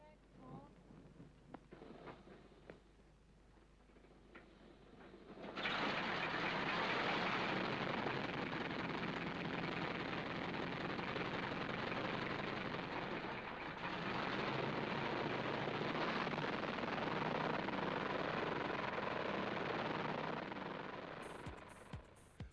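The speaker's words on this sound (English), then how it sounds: "Right, starter up. Connect port. Connect port, Pep. Contact port" A WWII bomber's engine starts up: after a few seconds of crew radio talk it catches and settles into a loud, steady roar that holds, briefly dips, then runs on before tailing off.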